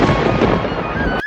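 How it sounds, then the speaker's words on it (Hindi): Thunder from an unseasonal rainstorm rumbles loudly and broadly, a dense roll that holds steady and then cuts off abruptly. "स्वामी, ये बिना मौसम की गरजती हुई बारिश हमें क्या संकेत देती है?"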